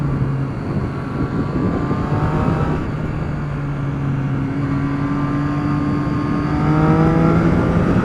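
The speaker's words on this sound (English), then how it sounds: "sounds lovely, even with the stock exhaust" A Triumph Street Triple 675 motorcycle on its stock exhaust revs and pulls through the gears, engine tone climbing and dropping in smooth sweeps, loud and close with steady wind rush behind it and no voices.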